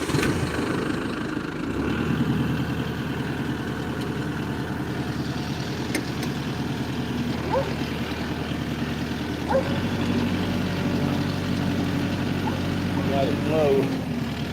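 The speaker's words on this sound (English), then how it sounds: "It's going to get kind of loud when I start this tractor." A Lamborghini 130 tractor engine starts and settles into a steady, loud low drone that steps up slightly partway through, with people talking over it.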